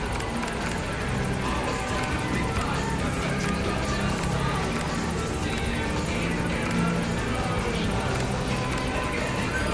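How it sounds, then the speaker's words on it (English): A steady, dense mechanical roar of a support helicopter arriving in Metal Gear Solid V: The Phantom Pain fills the whole stretch at constant loudness, with a faint voice underneath. "Support helicopter has arrived."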